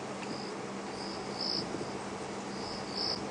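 A cricket at night in a game reserve, chirping in short repeated bursts off to one side, clear and steady over a low hum of night ambience with no talking.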